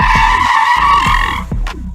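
A car brakes hard with a long, loud screech of skidding tires that holds steady, then breaks into shorter squeals near the end, close and alone with no talk.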